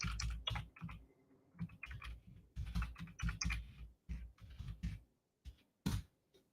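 Quick bursts of keystrokes on a computer keyboard come close and fairly quiet, in uneven clusters with short pauses between runs of typing.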